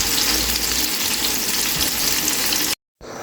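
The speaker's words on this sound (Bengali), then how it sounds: "আগে মাছটা একটু হালকা ভেজে নিচ্ছি।" Fish fries lightly in a pan, giving a loud, dense, continuous sizzle close by that cuts out briefly near the end and then resumes, with no talking.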